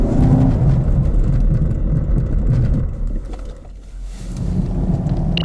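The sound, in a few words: Chevrolet Camaro SS 2018 braking hard during brake test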